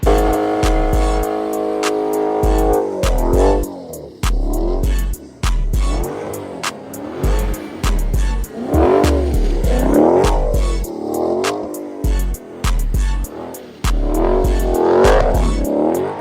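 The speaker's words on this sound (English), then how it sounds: "You wanna learn how to slide your car like this?" A Dodge Charger SRT Scat Pack V8 revs hard in repeated bursts while sliding, loud and close, with sharp throttle blips and squealing tires in an uneven rhythm throughout.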